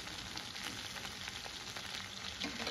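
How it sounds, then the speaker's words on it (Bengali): Prawns frying in hot oil in a pan, a steady dense sizzle and crackle with scattered pops, close and continuous throughout. "দিয়ে ভালোভাবে মাছটাকে আমি ফ্রাই করে নেব।"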